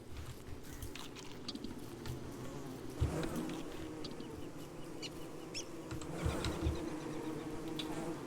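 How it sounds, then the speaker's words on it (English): Bees buzz in the survival game Don't Starve, a steady insect drone running under a busy ambient bed with a few louder thumps, moderately close and continuous throughout. "I'm pretty sure there's not a shit ton of bees back this way"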